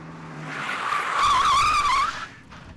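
Car tyres squeal in a wavering, rising skid as the car spins through a handbrake turn between two cones, loud and close, with engine rumble underneath and no talking.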